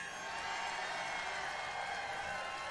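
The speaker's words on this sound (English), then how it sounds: "They're cheering, no mask." A political rally crowd cheers in a steady, dense roar that fills the space without pause, loud and continuous with no single voice standing out.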